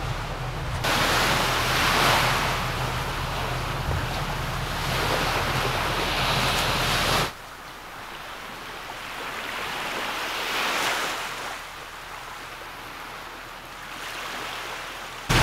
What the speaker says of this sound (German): man hört das Meeresrauschen